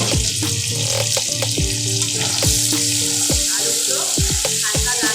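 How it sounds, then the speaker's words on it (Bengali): Potato pieces sizzle steadily in oil in a pan in a home kitchen, with loud continuous frying hiss and repeated sharp scrapes and clacks of a spatula stirring them. "আলুগুলো হালকা লাল লাল ভাজা হয়ে গেছে।"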